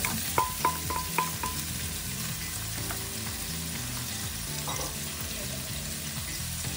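Chicken sizzles and fries in a pan for pancit noodles, a steady close crackle with a few clinks of a utensil stirring against the pan.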